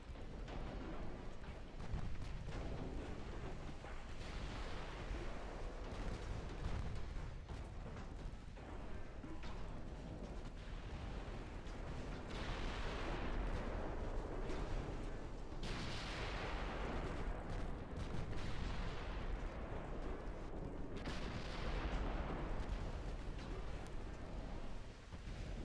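Heavy naval guns firing high-explosive shells in the warship game Ultimate Admiral Dreadnoughts, a dense, continuous rumble of booming salvos and blasts that swells in repeated waves and stays loud throughout.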